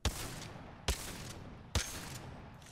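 Three evenly spaced gunshots from a weapon in Apex Legends, each a sharp loud crack with a ringing tail, about a second apart with no talking.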